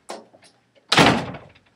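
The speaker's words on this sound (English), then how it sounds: "He opens the door, and it slams really loud again" Indoor door slams twice, a lighter thud first and then a much louder, fuller bang that rings briefly before dying away, with no voices present.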